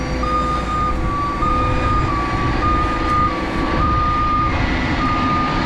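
A tow truck backs up with its reversing alarm sounding a steady series of repeated electronic beeps over a loud, constant engine rumble outdoors, with no voices.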